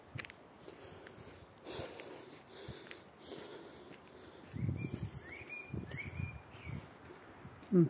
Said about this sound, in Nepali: चराहरूको आवाज आइरह